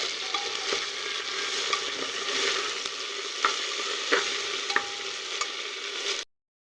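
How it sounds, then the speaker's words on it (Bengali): Cumin, ginger and garlic paste fries in a pan while being stirred, a continuous sizzle broken by repeated spatula scrapes and taps, close up, ending abruptly in silence. "আমি ভালো করে একটু নেড়ে ছেড়ে নেবো"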